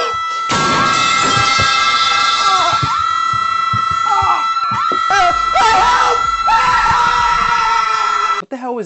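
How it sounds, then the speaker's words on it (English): Woman screaming loudly, long piercing shrieks with strained harmonic wails, repeated in several bursts and breaking off near the end, loud and close. "The screams of a white woman!"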